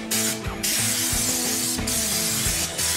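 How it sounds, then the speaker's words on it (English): U-POL Raptor black truck bed liner sprays from a spray gun in an even sweeping motion, a loud, steady hiss that is broken by brief pauses between passes. "when spraying the Raptor Liner, use an even sweeping motion"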